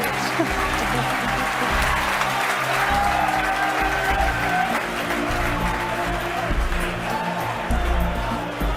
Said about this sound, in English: You can hear our crowd going crazy right now